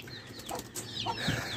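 Soft clucking from hens close by, a few short calls scattered over steady low background noise, with light rustling between them.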